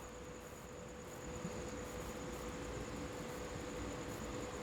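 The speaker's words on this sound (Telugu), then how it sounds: "కొవ్వూరు స్టేషన్ నుంచి మన ట్రైన్ అయితే బయలుదేరిపోయింది" A MEMU express train pulls out of Kovvur station, heard from inside as a faint, steady rolling rumble with a constant hum, gradually swelling a little as it gets under way.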